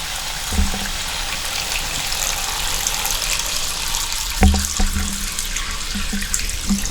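Water runs steadily from a Moen tub and shower faucet, a constant close hiss and splash with a few soft knocks from the pipes.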